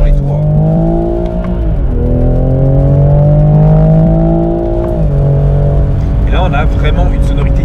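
Toyota Supra 3.0L with a BMW six-cylinder engine revving hard and climbing through the rpm, with gear changes that drop the pitch before it rises again, loud and close from the cabin.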